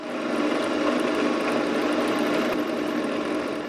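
A bead drill bit bores into a piece of heavy wood to make a wooden ball, a steady droning motor whir holding constant and close throughout.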